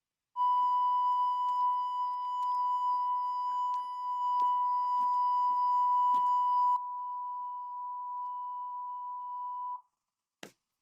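Electronic sensor beep, a single long steady tone lasting about nine seconds alone in a quiet room, dropping slightly in level partway through before cutting off, followed by a brief click.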